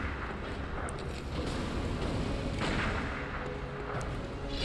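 Gunfire from a gun in the video game Bloodborne, a dense, continuous rumble of blasts and booms that stays loud throughout with no clear pauses.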